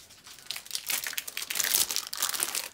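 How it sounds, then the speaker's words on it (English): White parchment baking paper crinkles and rustles close up in quick, crisp bursts of handling, growing busier toward the end, with no talking. "And I have white parchment paper."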